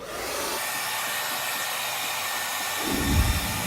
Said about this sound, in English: I'm done with the blow dry